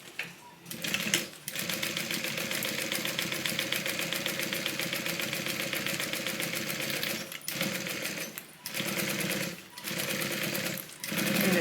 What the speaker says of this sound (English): So we're going to go ahead and do a top stitch right along the fold on the exterior.